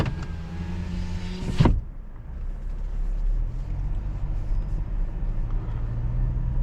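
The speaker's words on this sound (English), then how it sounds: "Put the windows up." Power windows closing on a 2024 Toyota Tacoma TRD Off Road, a steady motor whine for under two seconds that stops with a soft thunk, followed by quiet cabin hum.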